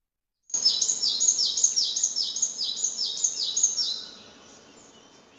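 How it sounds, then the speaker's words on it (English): Songbird singing a rapid series of about ten high, bright chirping notes in a clean recording, close and clear, with a faint tail of background after the song ends. "So let's first hear a bird sound."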